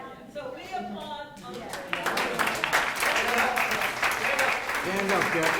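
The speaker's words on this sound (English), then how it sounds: "So we applaud." Crowd at a Cass Tech 60th class reunion breaks into applause after a voice speaks, the clapping swelling into a steady, fairly close burst of many hands.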